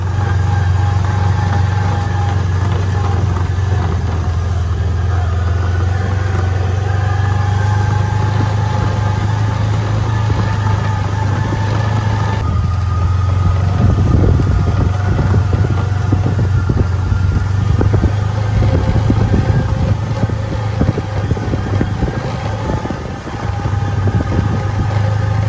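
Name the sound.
Kubota Sidekick utility vehicle driving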